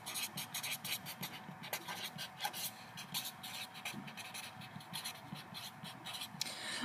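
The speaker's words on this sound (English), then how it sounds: "I'll write that down here." Pen writing notes by hand on paper during a biology lesson, steady close scratching strokes with short pauses between words, soft and alone without speech.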